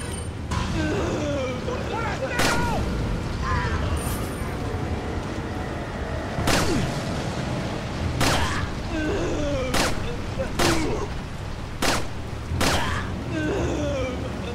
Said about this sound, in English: This pistol makes a really weird noise. It sounds like it's from outer space.